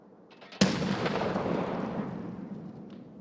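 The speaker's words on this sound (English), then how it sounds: "Why did I get a grenade lobbed at me?" Grenade explosion in the video game Escape from Tarkov: one sudden, loud, close blast that rolls into a long rumbling decay lasting several seconds.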